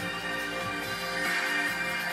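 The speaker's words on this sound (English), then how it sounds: "You hear the radio working." The Bose radio in a 2010 Mazda 3 plays steady music inside the car, a dense, continuous sound at moderate volume with no talk over it.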